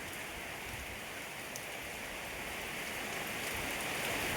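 Steady rain pours over garden plants and flowers, with a dense, continuous hiss of drops on leaves that stays close and even throughout, with no voices.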